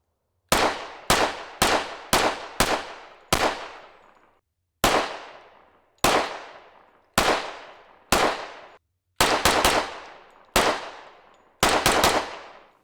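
A 10mm Smith & Wesson M&P pistol firing RBS ammunition outdoors, about fifteen sharp, loud shots in irregular bursts, some double taps, each followed by a short decaying echo.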